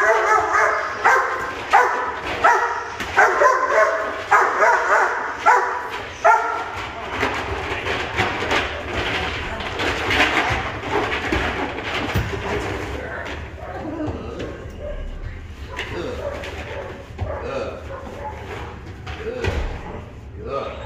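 A German Shepherd puppy barks in sharp, rapid bursts during protection training, loud and close at first, then mixed with scuffling and someone talking over the activity.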